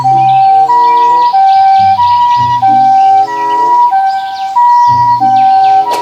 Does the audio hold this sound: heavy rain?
no